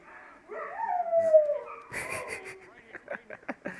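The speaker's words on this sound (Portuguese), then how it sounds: "o meu cachorro não para de uivar" A dog howls close by in a home, a rising, drawn-out wail lasting over a second, followed by a series of short yips and whimpers, fairly loud with no talking.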